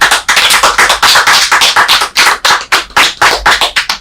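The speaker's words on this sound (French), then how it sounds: "que je vous demande d'applaudir." An audience claps vigorously at an honorary doctorate ceremony, a dense, loud and close patter of many hands that holds steady for several seconds.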